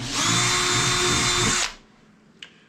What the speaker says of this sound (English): I'm just going to mark it with my drill bit and then come back and finish it up.